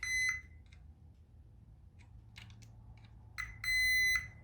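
A multimeter continuity tester beeps while probing brown general-illumination wiring on a pinball machine playfield during restoration: a short steady tone at the start, a faint blip, then two longer sustained beeps near the end over low hum.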